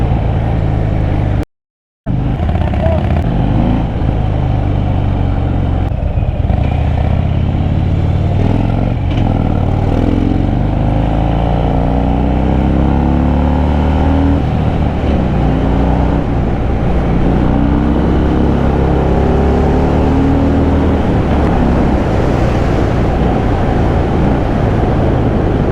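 A Harley-Davidson Iron 883 and a Fat Bob cruiser are ridden at full throttle on the Delhi–Dehradun road, their engines a loud, steady roar with rising and falling revs and heavy wind buffeting throughout, after a brief dropout near the start.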